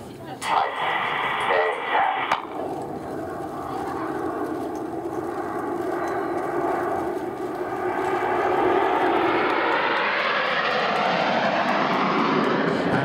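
Red Arrows jets flying in formation at an airshow in East Fortune, a loud, sustained engine roar that swells as they pass, with an announcer speaking over it on a public address.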